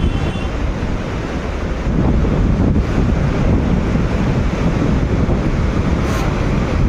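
A fast river current rushes during a rafting trip, a loud, steady roar of churning water with heavy wind buffeting across the microphone, continuous throughout with no talk.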